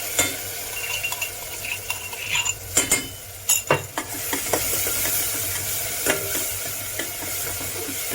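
Spices sizzle in very hot oil over fried onions while a utensil stirs and clinks against the pan, giving a steady frying hiss with scattered scraping knocks and no talk.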